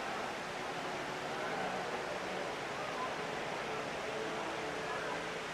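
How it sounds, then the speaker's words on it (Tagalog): Tall indoor waterfall inside Dubai Mall, a steady, broad rushing roar of falling water that stays even and unbroken throughout, heard against the ambient hum of a large indoor space. "Tallest waterfalls inside Dubai Mall."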